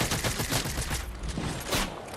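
Rapid bursts of gunfire from a Fortnite match, dense and continuous for the whole span with a sharp louder crack at the end, no talking over it.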